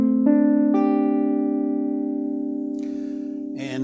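A guitar chord built from stacked minor third, major second and perfect fourth intervals, strummed with a few staggered attacks and left ringing to a slow decay, close and clear with no talking.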